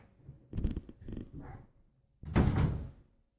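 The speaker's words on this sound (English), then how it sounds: "let me shut my door real quick." An indoor room door is pushed shut, with some shuffling and rustling as it swings, then a firm closing thud near the end, close and fairly loud.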